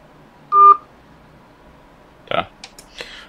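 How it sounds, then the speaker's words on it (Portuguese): Telephone keypad dialing a number, one clear beep tone followed by a quick series of shorter dial tones and clicks, close and isolated in a quiet room. "Vou ligar para outro número"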